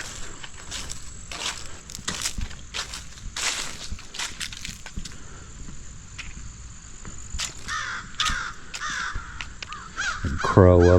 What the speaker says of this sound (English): Crow up there.